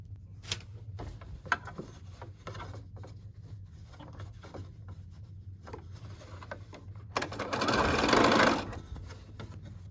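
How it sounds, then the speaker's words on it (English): A serger (overlock machine) stitches a sleeve seam closed on a wrap dress, giving a fast, steady whirring run of a couple of seconds after scattered fabric handling clicks and taps. "I'm going to take it back to the serger and stitch it closed"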